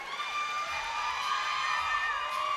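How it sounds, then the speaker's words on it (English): Crowd cheering for the Lions cheer team at a cheerleading championship, a steady, dense wash of shouts and whoops from a large audience, sustained throughout without a break. "Huge cheering section for the Lions here today."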